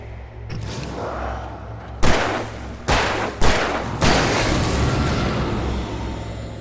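Gunshots from the video game Alan Wake Remastered: four loud, sharp blasts spaced over a few seconds, each with a booming tail, over a low rumbling game ambience.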